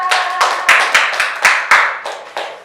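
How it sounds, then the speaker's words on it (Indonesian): Classroom applause for a presenting student group: a few people clapping close by in loose, distinct bursts, each sharp hit standing out over the last couple of seconds. "Tepuk tangan untuk kelompok 2"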